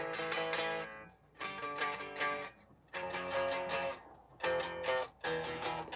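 Electric guitar playing a riff in drop tuning, heard alone as loud, heavy chord bursts in four phrases separated by brief gaps.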